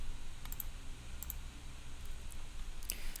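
Computer mouse clicks in a quiet room, a few pairs of crisp, close double clicks spaced over a few seconds against a low hum.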